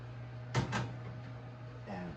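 Beef pies are slid into an oven at 400 degrees. Two quick clunks of metal on metal as the oven door shuts, a softer knock follows, and a low electrical hum runs underneath.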